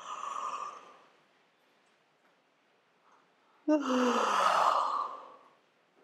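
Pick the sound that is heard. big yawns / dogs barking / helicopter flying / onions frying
big yawns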